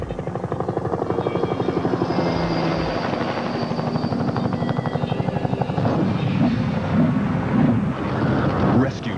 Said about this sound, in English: The chopper loses lift.